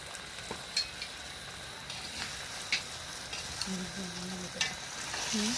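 Pork curry sizzles and fries in a large wok while being stirred, with scraping clinks of the utensil against the metal over a steady frying hiss, and a low hum joining toward the end.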